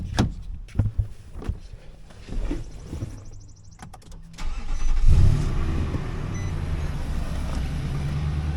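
A 2019 Nissan Titan pickup, just after an oil change, cranks with a few short clicks and mechanical rattles, then its engine catches and settles into a loud, steady idle close by.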